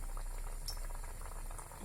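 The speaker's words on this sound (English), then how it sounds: "Now I have preheated the oil. Now it's ready for frying." Steady hissing sizzle of hot oil in a pan, a dense crackling wash that holds even and close throughout, with no talking.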